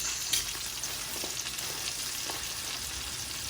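Spinach sautéing in a pan, a steady close sizzle with occasional soft stirring scrapes, no voices over it.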